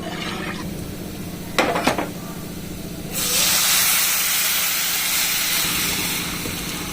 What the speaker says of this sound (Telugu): తాలింపు ఎర్రగా వేగిన తర్వాత ఈ గిన్నెలో మనం ముందుగా రామ్ పెట్టుకున్న పప్పుచారు పోసుకోవాలి